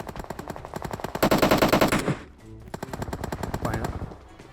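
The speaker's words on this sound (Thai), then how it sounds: "เสียงปืนอะไรอ่ะ" Rapid automatic gunfire in PUBG Mobile, loud bursts of rattling shots with a brief pause midway, then another sustained volley.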